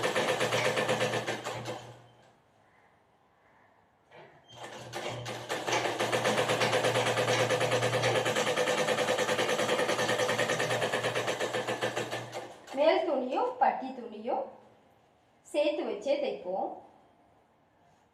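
A sewing machine stitches a blouse patti in long steady motor runs, and someone speaks between the bursts.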